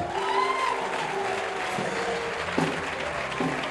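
A church congregation claps and cheers during a worship service. The applause is sustained and fairly even, with a few brief shouts rising above it.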